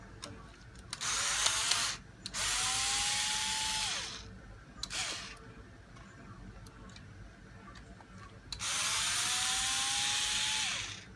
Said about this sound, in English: you just pull these two rear bumper mount screws out